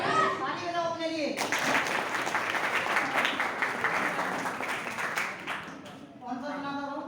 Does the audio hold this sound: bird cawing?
no